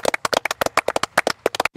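Members of the Eagles wiffle ball team clap for themselves after an NLCS game win, a close burst of dense, uneven hand claps from a small group.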